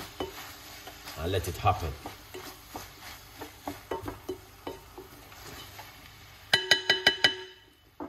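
Cabbage stirred in a cooking pan, a steady run of soft scraping strokes with faint sizzling beneath, ending in a quick burst of sharper metallic clinks; someone talks briefly over it.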